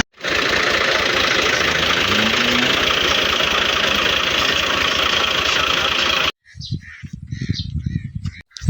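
A tractor engine idles in a steady, loud, continuous drone for about six seconds, then cuts out abruptly, leaving quieter scattered outdoor sounds and bird calls.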